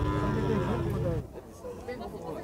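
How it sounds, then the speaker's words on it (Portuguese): A cow at a cattle fair in São João, Pernambuco, Brazil gives one long, loud, deep moo close by, then it stops and the busy murmur of the crowd takes over. "Tem até uma vaca."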